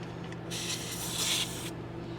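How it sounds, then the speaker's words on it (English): A Haloview BT7 TPMS sensor cap is screwed onto a tire valve and gives a short, soft hiss of escaping air lasting about a second. The setting is quiet, with no speech. "we're going to screw the cap onto the tire"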